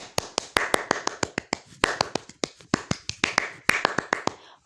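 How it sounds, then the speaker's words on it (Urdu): Applause from a crowd of cartoon characters after an elder named Dadu finishes a speech at a New Year gathering: a loose run of sharp, bright hand claps at close range, steady for several seconds with no voices. "ددو کی تقریر سن کر سب نے بہت زیادہ تالیاں بجائیں"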